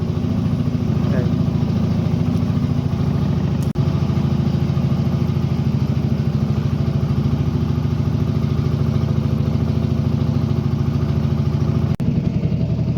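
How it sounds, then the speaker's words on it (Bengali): A trawler's engine runs steadily on a boat heading out to a fish farm on a canal, a loud, continuous low throb with voices talking over it. "আমি ট্রলারে করে আবার চলে যাচ্ছি নিচে"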